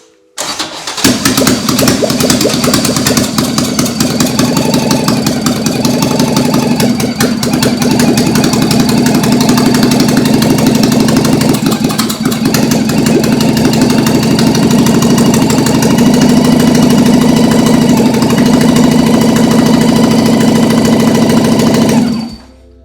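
A Toyota AE86 with a 4AGE 20V Black Top engine cranks and catches on its first start, then settles into a steady, loud idle for about twenty seconds before cutting off.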